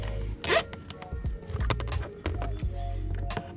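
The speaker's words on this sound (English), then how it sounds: "we're going to fix the harness with the 2 remaining zip tie in the kit." Zip ties are ratcheted tight on a vehicle wiring harness during a tow hitch and oil cooler install, giving short, close zipping bursts with handling clicks and rustles between them.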